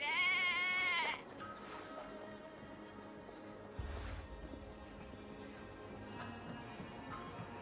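A sheep bleats loudly in the video game Assassin's Creed Valhalla, one drawn-out wavering call at the start, followed by quieter in-game ambience.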